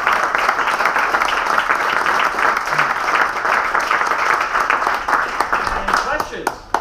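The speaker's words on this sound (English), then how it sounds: "I just want to give a great big round of applause to Marcel Kornacker" Dense audience applause for a speaker at a technical talk on SQL analytics, a continuous roar of clapping that holds steady for several seconds, with a few voices mingled in, then thins out into scattered claps.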